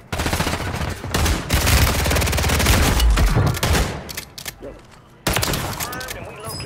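A video game firefight, with dense, loud bursts of rapid gunfire close by, a brief lull, then another sharp volley. Shotguns are among the weapons, and game voices and speech run underneath.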